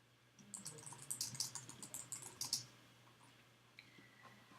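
Rapid keyboard typing on a computer as an organization name is entered, a quick burst of close, crisp key clicks over a faint steady hum, followed by a few scattered clicks.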